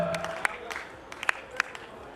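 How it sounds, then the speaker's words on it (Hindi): Scattered hand claps from an audience at a sangeet ceremony, a few sharp claps standing out over a quiet murmur of voices rather than sustained applause. "It is lots and lots of claps."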